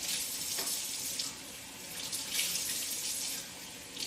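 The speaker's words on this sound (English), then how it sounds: "for rinsing, it's just water and coffee here, so not much is needed to rinse it off." Tap water runs steadily over parts of a Kevo Double Barrel coffee grinder as they are rinsed, a close, continuous splashing stream with brief changes as pieces move under the flow, and no talking.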